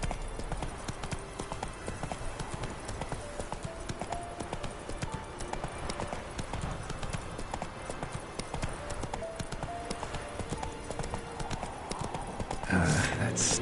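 Horse hooves clip-clop at a steady gallop in The Witcher 3, a constant rhythmic pounding under game ambience with occasional snorts, ending in a brief louder burst near the close.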